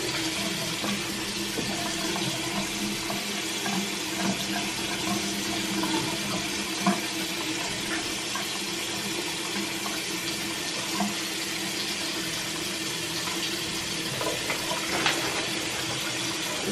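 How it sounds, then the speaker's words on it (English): Tap water running steadily into a bathroom sink during face washing, a continuous close rushing splash with faint irregular knocks and splashes, with no voices. "And then I'm just going to wash my face off with my face wet."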